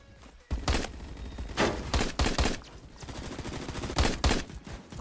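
A SCAR SSR rifle fires in rapid bursts in Phantom Forces, a first-person shooter, with sharp repeated cracks in quick succession, loud and close, and brief pauses between volleys.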